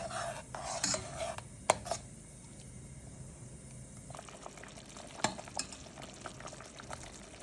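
Sugar and water syrup boiling in a pot for rose jam, stirred with a utensil that clinks against the pot in a few sharp scrapes and taps over a steady low bubbling hiss.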